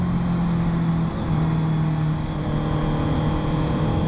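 A Honda motorcycle accelerates hard in fourth gear, its engine producing a loud, continuous drone that climbs steadily while wind roar fills the background, with no voices.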